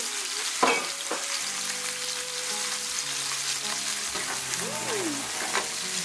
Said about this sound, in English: we're going to start frying those up